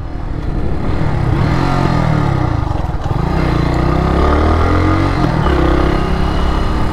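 A Kawasaki W175TR motorcycle being ridden, its steady engine drone loud and close throughout, with wind rush and small shifts in revs but no breaks.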